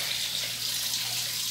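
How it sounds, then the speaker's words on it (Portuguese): Tap water runs steadily into a bowl, poured over a free-range chicken soaking with lemon to cover it, a continuous close hiss of flowing water with no talk. "E aqui eu boto um pouco de água até cobrir."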